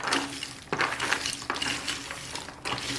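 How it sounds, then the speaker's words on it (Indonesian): Crisp fried cashew nuts stirred in a pan, rattling and clinking against the metal in repeated scraping bursts, loud and close with no talking. "Kemudian kita aduk-aduk. Tuh. bunyinya sampai kerincing-kerincing."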